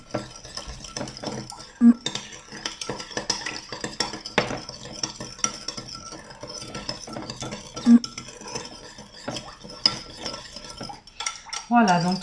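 Fork stirring and scraping through a sushi rice mixture in a bowl: steady soft clinking and scraping for several seconds, with a few sharper clinks of metal against the dish.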